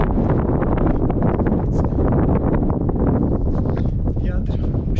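Strong, continuous wind buffeting close to the microphone on Tibidabo hilltop near Barcelona, a dense roar with gusty rustling throughout.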